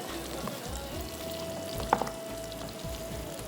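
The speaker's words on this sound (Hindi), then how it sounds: "इसको फ्राई कर लेते हैं हम अच्छी तरह" Beef ribs fry in a pan for a rib stew, giving a steady close sizzle with a sustained faint tone, a couple of brief clinks midway, and no voices.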